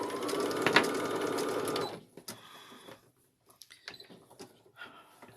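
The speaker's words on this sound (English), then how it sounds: "So line it up, stick it under your machine," A sewing machine stitches the edge of a fabric square for a pattern weight, running in a steady loud whir for about two seconds before stopping, followed by scattered small clicks and handling noises.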